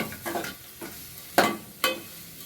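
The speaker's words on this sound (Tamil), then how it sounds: "வெங்காயம் போட்டோன்னே என்ன சவுண்டு வருது பாருங்க." Onions drop into a hot pan over a medium flame and sizzle in a few short, sharp bursts, with stirring scrapes between them, close and clear without speech.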